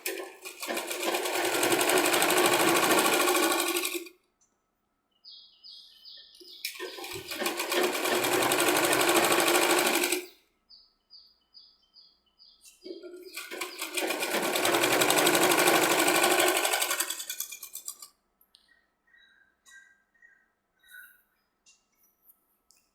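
A sewing machine runs in three sustained bursts of rapid stitching along a bell sleeve strip, each lasting a few seconds, separated by quiet pauses with light clicks of handling.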